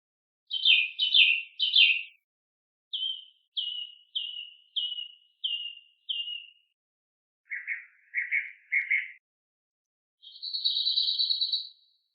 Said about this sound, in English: This is bird's sound.